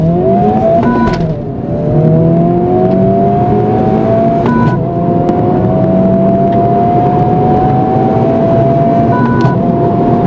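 Stock 2023 Honda Civic Type R FL5 pulling hard through gears, engine note climbing steadily and dropping briefly at two quick no-lift shifts, heard loud from inside the car without talk.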